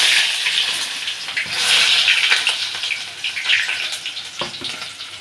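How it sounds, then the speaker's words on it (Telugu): Onions hiss and sizzle after going into hot oil for a home-made chicken curry, a steady close frying crackle with a few clinks from the pan, and no talking. "సో దీంట్లో ఆనియన్స్ వేసేద్దాం."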